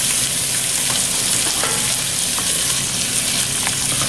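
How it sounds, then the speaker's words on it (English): Vegetables browning over medium-high heat in a pan for lentil soup, giving a loud, steady sizzle with a few scraping stirs scattered through, no voices. "I'm going to turn it back up to medium-high and just brown down these vegetables"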